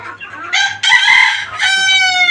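A Malaysian Serama rooster crows nearby in loud, shrill bursts, with a brief cluck before the first call, then two strained crowing phrases that fill the moment, and no talking.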